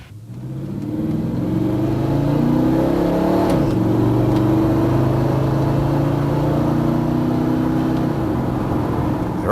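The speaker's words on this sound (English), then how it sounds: "try some upshifts at 3/4 throttle to see if the clutches and band are in normal" A car with a 2004R automatic transmission accelerating at three-quarter throttle, the engine note rising steadily and dropping at an upshift, then climbing again, loud and close with no talk.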